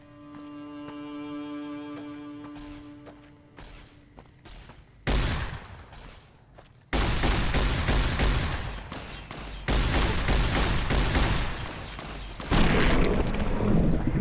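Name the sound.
shotgun fire in a video game, Fallout New Vegas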